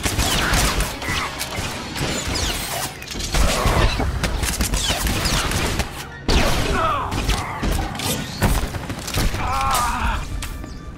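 Blaster fire from soldiers in Star Wars: The Old Republic, a loud sustained exchange of rapid shots with thuds and bursts, near and intense, with voices briefly heard.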